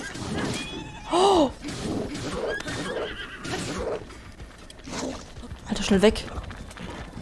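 A horse whinnies loudly in Zelda: Breath of the Wild after being struck by accident, one sharp neigh early and another near the end, with hooves clopping and someone talking excitedly throughout.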